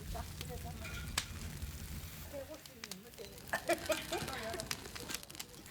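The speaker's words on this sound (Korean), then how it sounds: "자반은 숯불에 은근히 구워야 하는데" Soft sizzling and crackling of jaban grilling slowly over a charcoal fire, with occasional pops and faint voices speaking in the background.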